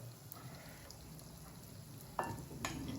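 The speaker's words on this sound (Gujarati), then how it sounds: "ચલો તો એને તળાવવા દઈએ" Steady frying sizzle from wheat flour donuts in hot oil, a continuous crackling hiss with a couple of louder stirring clatters near the end.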